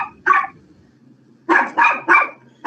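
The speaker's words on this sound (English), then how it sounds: "Sorry, Isis, that's my dog" A dog barks nearby indoors: one short bark, a pause, then a quick run of three loud barks with a fourth beginning at the end.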